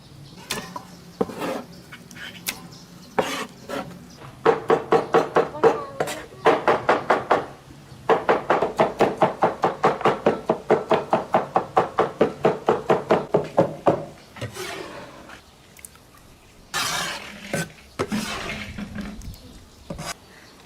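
Eggplant skins being chopped by hand for a spicy northern Shaanxi dish, heard as long, rapid, evenly spaced runs of close, loud knife blows on a board, broken by short pauses and a few scattered knocks.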